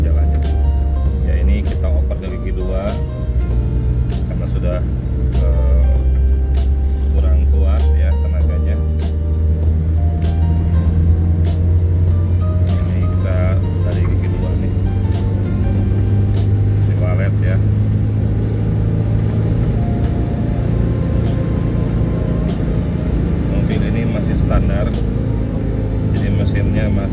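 An old Suzuki Carry engine drones low and steady while driving down a steep road in second gear. A voice talks over the constant rumble.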